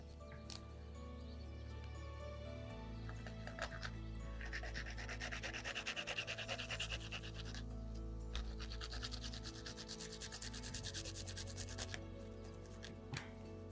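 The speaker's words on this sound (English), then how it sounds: "when grating the pepper, be careful with your eyes." Pepper being grated by hand in a kitchen, continuous raspy scraping strokes close up, fairly quiet, with a few sharp clicks.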